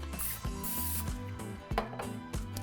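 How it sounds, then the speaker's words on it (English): Non-stick cooking spray hisses into a Bundt pan in a few short bursts, close and fairly loud, over a steady background tone. "So just spray it with some non-stick cooking spray."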